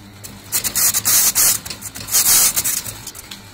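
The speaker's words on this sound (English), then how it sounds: "you turn on the machine or the motor, hold it, and then you slowly reel in the side peeler." A coconut peeling machine runs with its motor on while a side peeler is slowly fed against the coconut. The result is close, rough rubbing and scraping in uneven bursts, with no talking.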